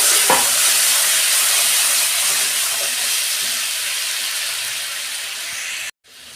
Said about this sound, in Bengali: অল্প জল দিচ্ছি।